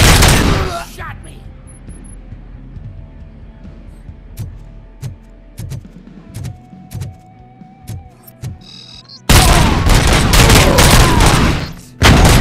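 Gunfire in the video game RoboCop: Rogue City, with scattered sharp shots through the middle of the clip, then a dense loud burst of sustained fire near the end, with voices shouting around it.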